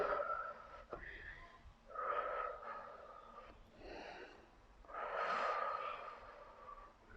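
Audible exhales during a beginner home HIIT cardio workout, several soft breathy puffs and wheezy breaths at an uneven rhythm, quiet and close.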